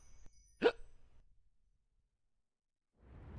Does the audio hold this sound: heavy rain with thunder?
no